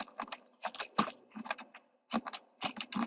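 Arrow keys on a computer keyboard tapped in quick irregular bursts, close and fairly quiet, with short pauses between clusters of clicks.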